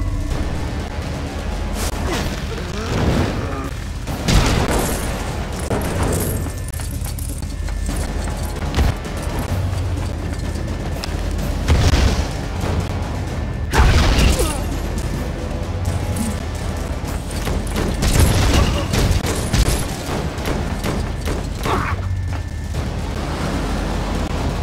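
Booming explosions and crashes roar through a laboratory break-in in the LEGO Marvel Super Heroes video game, loud and dense, with repeated heavy bursts and whooshes over a constant rumbling game soundtrack.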